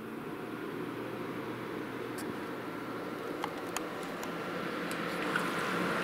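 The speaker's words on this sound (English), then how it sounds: "You can hear the fan." A steady, soft whooshing hum comes from the fan of a 115-watt countertop ice maker just switched on, running continuously at moderate volume with a few faint ticks.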